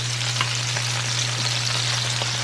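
Rice fries in a pan with a steady, even sizzle while a utensil stirs it now and then, giving faint scrapes under the hiss, with no voices.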